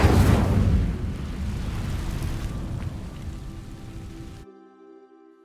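Incendio fire spell igniting dry vines in a magic video game, a sudden loud whooshing burst that settles into steady crackling flame, then cuts off abruptly.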